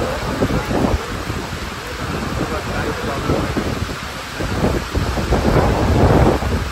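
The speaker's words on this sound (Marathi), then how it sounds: "हा पाऊस त्या ठिकाणीच आहे" Steady rain and thunder at sea during a sudden Arabian Sea storm, with low rumbling, wind buffeting the microphone, and a person talking briefly over the downpour.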